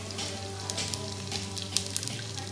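Green chillies fry in hot oil for tempering mango rice. A steady close sizzle runs throughout, with scattered sharp pops and crackles on top.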